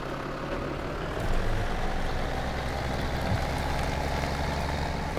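Tractor engine in Farming Simulator 2017 on the Wexcombe Manor Farm map, a steady low diesel drone that holds level and rises slightly partway through as it drives, continuous and close with no talking.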